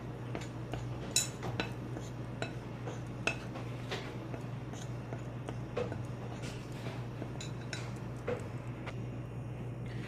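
A spoon stirring salt into a sweet potato pandesal mixture in a bowl gives repeated light clinks and scrapes over a steady low hum, irregular and fairly quiet.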